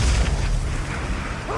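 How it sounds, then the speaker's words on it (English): A heavy, close grenade blast booms in a film scene of brutal car battles, a short loud low rumble with no talk. "Sweet Tooth responds by shoving a grenade in the guard's mouth and blowing him up"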